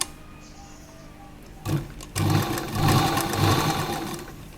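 A sewing machine stitches the inner collar of an A-line jacket dress. After a quiet start there is a short burst of stitching, then a steadier run of rapid, close mechanical whirring.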